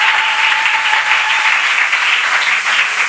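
A church congregation applauding loudly and continuously, dense clapping filling the room without pause.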